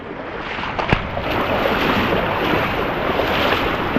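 Rushing water from a tributary of the Dismal River on the Appalachian Trail makes a steady, loud broadband roar for the whole stretch, with a small knock near the start.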